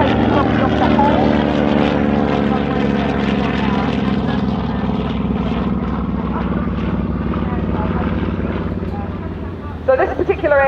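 A Grumman TBM Avenger torpedo bomber, built by General Motors, passes slowly overhead. Its loud propeller drone fades gradually, with someone talking over it toward the end.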